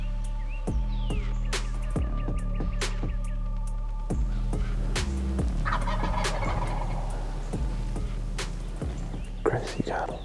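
Wild turkeys gobble repeatedly during a spring turkey hunt outdoors, a series of loud, fairly close rattling gobbles with overlapping calls, while hunters whisper quietly underneath.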